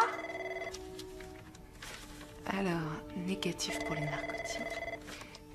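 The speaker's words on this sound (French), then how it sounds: "C'est le téléphone qui sonne." A telephone rings steadily indoors in repeated electronic trills while people speak quietly over it.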